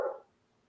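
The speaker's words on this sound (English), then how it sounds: "my dog is barking at absolutely nothing at the window" A single short dog bark at a window, sharp at the start and quickly fading into quiet room tone.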